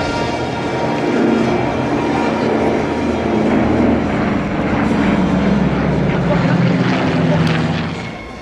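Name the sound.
vintage airplane flying at air show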